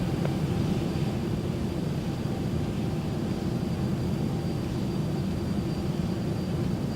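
Simulated PMDG Boeing 737-800 airliner taxiing in Microsoft Flight Simulator 2024, a steady low engine drone with a faint high whine, continuous and even throughout.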